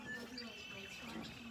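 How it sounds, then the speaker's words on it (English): Red-winged blackbirds chirping and trilling in a tree off in the distance in springtime, their songs repeating faintly over a steady background hum. "the springtime birds, the red-winged blackbirds particularly, up there in the tree?"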